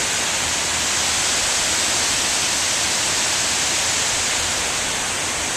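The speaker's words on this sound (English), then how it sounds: "That's the spillway right above me, and I'm literally right under it." Water pours over the Morgan Falls Dam spillway as a loud, dense, unbroken roar, heard from right underneath.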